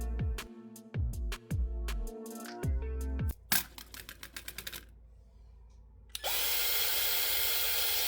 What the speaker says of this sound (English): I take out my handy dandy drill and drill all of the holes in place